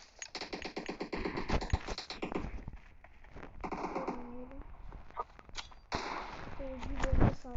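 Video game gunfire starts with rapid, dense bursts of shots. Sparser single cracks follow, and a short voice comes in between the shots.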